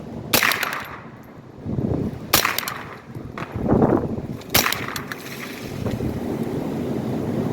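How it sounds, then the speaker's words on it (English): Wind gusts roar across open ground in high wind, broken by several sharp cracking snaps and a heavy crash as a tree gives way, then leaves rustle in the wind. "That sound that you heard was a tree coming down just now."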